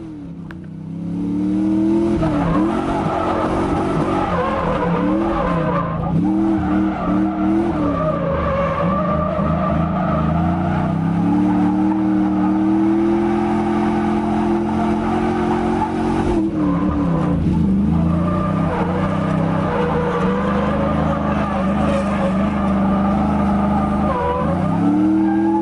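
A 1999 Subaru Legacy drifts with its engine losing oil pressure, droning loudly under sustained revs while tires skid and squeal, the engine note dipping and rising again midway through a long run.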